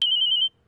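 A phone ringtone gives a single short, loud electronic tone, a clear steady pitch held for about half a second and then cut off, with no voices over it.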